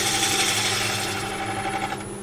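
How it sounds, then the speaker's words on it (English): A gouge cuts African blackwood spinning on a wood lathe, making a continuous, fairly loud rough scraping whir that holds steady throughout. "Roll the gouge over, twisting as I get to there. roll the gouge back the other way"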